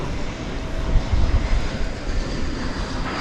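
An American Airlines jet airplane at DFW Airport roars steadily as a broadband engine rush, with low rumble swelling briefly in the middle, at night on the airfield.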